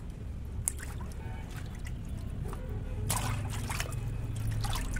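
A household broom is soaked and rinsed in water, giving a steady low trickling and sloshing with a few brief splashes, fairly close and continuous with no speech.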